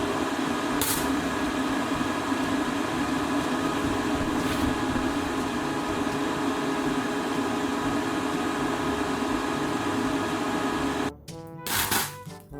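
Welding on the axle of an electric outboard motor: a steady, loud, continuous buzzing crackle that holds for about eleven seconds, then cuts off abruptly, followed by a brief stuttering burst near the end.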